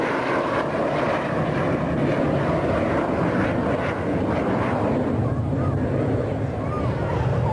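A loud, continuous roar of a jet aircraft engine at Bruntingthorpe, steady and close, with a broad rushing tone and no talking.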